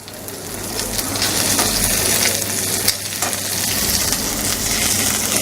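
Herb-crusted rack of lamb sears loudly in a hot pan, a steady broadband sizzle holding throughout with a few brief clatters and scrapes as the meat is turned onto its other sides.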